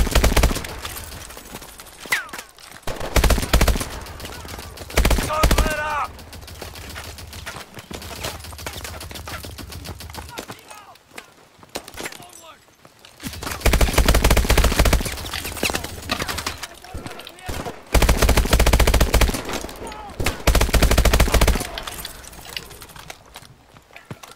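Gunfire in the video game Call of Duty: Advanced Warfare on PS4, dense bursts of rapid automatic shots in long loud stretches broken by brief quiet gaps, with no voices heard.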